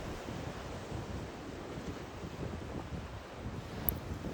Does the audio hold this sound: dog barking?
no